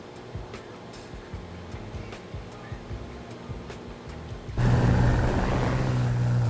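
Piston engine of a Bonanza A36 in the flight simulator MSFS 2024, a steady low drone that jumps to a louder, fuller roar partway through, with no voices.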